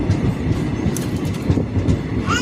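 A train travels along the Bhor Ghat railway, steady rolling rumble and rail clatter filling the whole stretch with a couple of higher metallic squeaks near the end, close and continuous.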